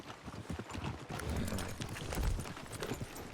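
Horse hooves clip-clop steadily in the video game Red Dead Redemption 2, a fairly faint, continuous stream of hoofbeats over a roleplay server's ambient background.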